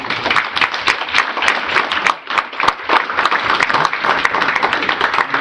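Applause at a city council meeting for three young students, loud, close and continuous, with dense clapping filling the room throughout.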